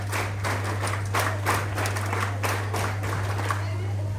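NCC cadets clap at a prize distribution ceremony, a dense, steady patter of many hands with rhythmic bursts roughly twice a second. A constant mains hum runs underneath throughout.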